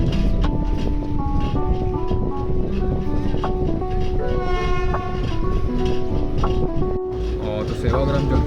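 An Indian Pune–Nagpur SF Express train departs with a steady rumble of rolling cars, while long horn blasts ring out over the din and people talk nearby.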